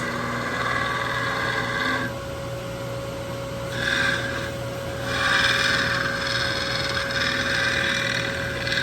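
A rag rubs wax into wood with friction, a steady close scrubbing hiss that swells and eases in strokes over a constant background tone, with no voices.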